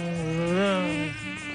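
A voice imitates buzzing flies with a nasal, wavering drone that rises and dips in pitch, sustained alone for over a second in the middle of a joke.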